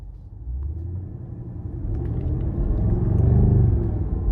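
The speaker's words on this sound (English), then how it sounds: "Let's go ahead and take this 2019 CT6-V Blackwing out on the road for a test drive." A 2019 Cadillac CT6-V Blackwing V8 sedan drives on the road with a steady, deep engine rumble that swells gradually as it pulls ahead, heard close and alone.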